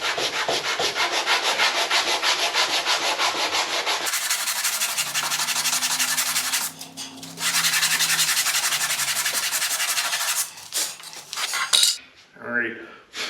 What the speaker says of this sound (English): I'm just gonna take my sanding block